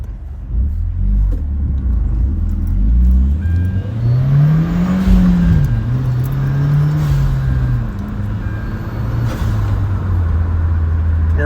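A 2010 Hyundai Genesis Coupe R-Spec 2.0T with a GReddy-style FV blow-off valve accelerating: a loud, deep engine rumble climbs in revs, eases off, then settles into a steady drone, with a faint whoosh from the valve.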